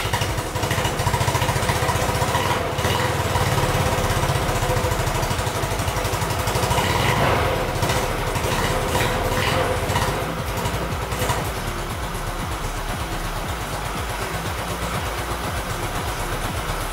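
Yamaha Mio scooter engine running at idle, a steady close putter with a rougher burst midway before settling into an even idle, loud and alone.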